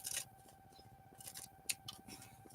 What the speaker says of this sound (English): which we will do with the scissors here